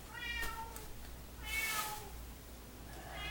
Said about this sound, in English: Constantly meowing. Wanting attention from everyone.